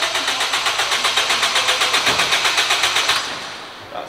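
A car engine fitted with a Solidfab 4-2-1 exhaust manifold runs loud and close with a steady pulsing rhythm, then drops to a quieter idle near the end, with no voices.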